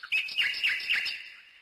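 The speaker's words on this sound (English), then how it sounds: "A mechanical nightingale." A mechanical nightingale sings a bright, rapid run of high chirping, warbling notes in quick repeated bursts, loud and close, then fading away with no voices.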